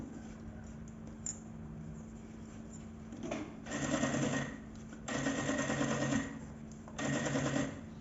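A sewing machine stitches along a marked line on fabric for a bag, running in three steady mechanical bursts separated by short pauses, close and fairly quiet.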